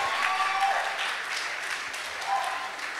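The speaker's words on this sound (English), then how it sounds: "Please, a round of applause for our ex-presido, Mr. Tobechukwu" Audience applause for ex-president Mr. Tobechukwu Modebe at a church young professionals' fellowship seminar, a steady wash of clapping from a crowd in a hall, sustained evenly throughout with no voices over it.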